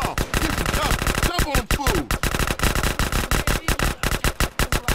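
Rapid automatic gunfire from a weapon in GTA: San Andreas, loud and close, with dense bursts of shots in quick succession followed by choppier, separated shots toward the end.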